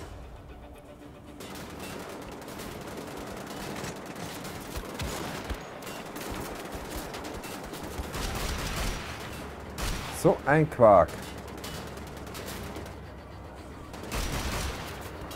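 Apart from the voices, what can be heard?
gunfire in the video game Wolfenstein: The Old Blood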